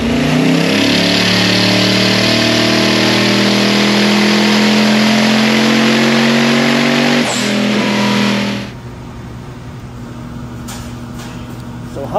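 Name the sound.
twin turbo Hemi engine revving on a dyno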